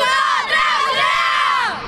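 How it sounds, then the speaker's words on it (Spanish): A children's futsal team from Basilea, Canary Islands champions, shouts their battle cry together, a loud, sustained chorus of high young voices lasting nearly two seconds. "el grito de guerra del Basilea"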